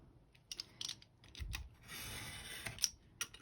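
Scissors snipping postage stamps out of paper for a junk journal, a few close, crisp cuts and rustles spread through quiet handling noise, no talk.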